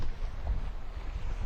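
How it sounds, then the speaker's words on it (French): Wind rising while sailing on a boat, a steady low roar and buffeting rumble against the microphone, continuous and moderately loud with no voices. "Le vent vient de monter."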